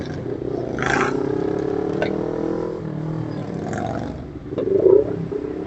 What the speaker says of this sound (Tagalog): Pero ang distinct ng tunog, so it sounds to me like Harley.